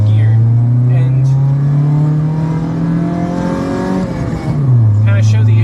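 A 1997 Honda Civic DX with a D16Z6 engine accelerates steadily up through the gears, its loud, close engine note rising in pitch, then dropping at a shift and climbing again.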